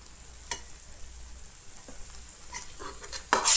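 Vegetables for masala pav are stirred in a pan with lemon juice. A soft low sizzle runs under scattered scrapes and taps, and a louder clatter comes at the end.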